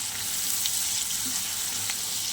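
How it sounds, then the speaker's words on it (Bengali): Shrimp fry in a pan with salt and turmeric, producing a steady, close sizzle that hisses evenly with occasional small pops and no talking. "এবারে আমি সুন্দর করে ভেজে নেব চিংড়ি মাছ দিয়ে"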